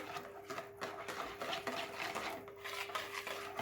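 Oil being stirred into pizza dough ingredients in a bowl, giving a steady close scraping, rubbing sound that runs continuously without pauses or talk.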